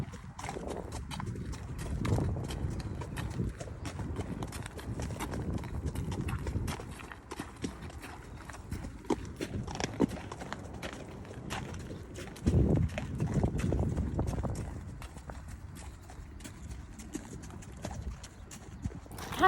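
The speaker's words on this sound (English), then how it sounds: "That I'm on my horse and you're on your horse. Can you believe it? Can you believe it? And we're hacking." Horses' hooves clip-clop steadily on a hack, two riders side by side, the rhythmic footfalls close and fairly loud, with brief bursts of louder clatter and occasional soft talk in the background.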